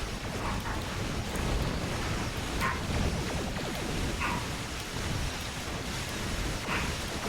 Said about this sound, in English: I have no idea why my dogs are barking.